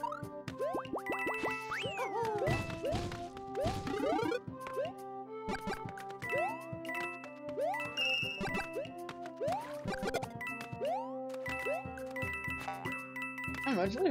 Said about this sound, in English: I'll risk my life to collect some coins.